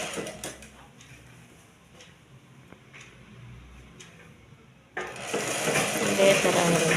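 Folded cloth stitched on a sewing machine: light ticks and clicks at first, then the machine runs in a steady, louder whirring rattle for the last couple of seconds.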